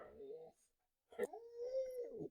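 A dog whimpers and whines for attention in drawn-out, wavering cries, with a short whine at first, a pause, then a longer high plaintive whimper close to the listener.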